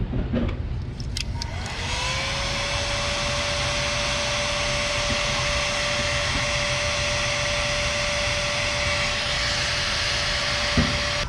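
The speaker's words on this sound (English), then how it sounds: "So we're going to use the heat gun. We'll just heat it up, pull it out of there." Heat gun blowing hot air to loosen a broken plastic fitting, a steady close whooshing roar with a sustained whine that starts after a few clicks and runs on alone.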